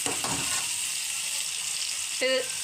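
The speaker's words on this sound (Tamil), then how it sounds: "நான் கொஞ்சம் தக்காளி போட்டு நல்லா வணக்கி விட்டுக்கிறேன்" Chopped tomatoes sizzle and fry in a hot pan while being stirred for poha, a steady bright hiss broken by a few clinks and scrapes of a spoon against the pan.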